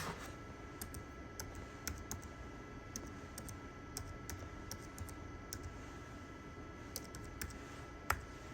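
Fingers type a password on a computer keyboard in a church audio-visual room, a steady run of light, close key clicks with irregular rhythm and a few sharper taps over a quiet room hum.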